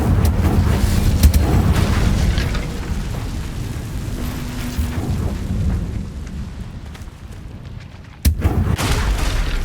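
An Incendio fire spell cast in Hogwarts Legacy: a loud, continuous roaring blast of flame with booming, gunfire-like bursts, dropping away briefly near the end before a sharp new burst.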